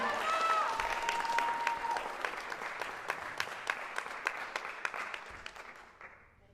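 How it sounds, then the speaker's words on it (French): Applause from the audience at the final of the Eloquentia Bordeaux speaking contest, dense clapping that thins into scattered individual claps and fades out. A brief tonal sound rings at the start. "Encore un tonnerre d'applaudissements pour Emma."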